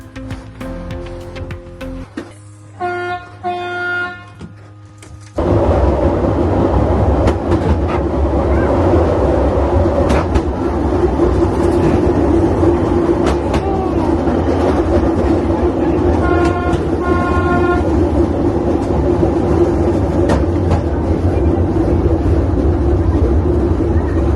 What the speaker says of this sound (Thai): นี่รถไฟมารับเราแล้ว ขบวนเล็กๆ ของเรา